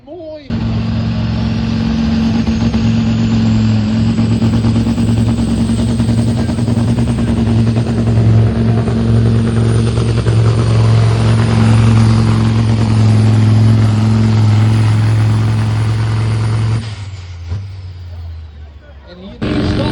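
A pulling truck's engine roars loudly and steadily for about seventeen seconds at a truck pulling event, with a deep droning tone, then cuts out abruptly, leaving quieter background noise.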